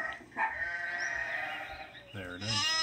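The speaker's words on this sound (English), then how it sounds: "the soft and bleating sheep" A sheep bleats in a long, wavering cry, followed by a shorter, higher bleat close by.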